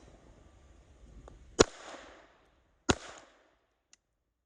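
Two sharp Glock 44 pistol shots, fired right-handed with a compromised grip, crack out about a second apart, each followed by a short echo tail, with a faint click after the second.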